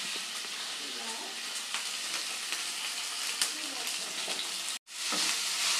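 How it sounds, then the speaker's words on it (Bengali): Minced chicken frying and being stirred in a pan, a steady close hiss of sizzling fat punctuated by spatula scrapes, with a brief cut before the sizzle resumes; no speech. "চিকেনটা একটু ভেজে নিয়ে"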